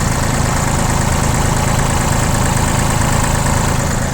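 An ISEKI TU165 small tractor engine idles steadily and evenly, a continuous low rumble with a faint mechanical chatter, close by and loud with no voices.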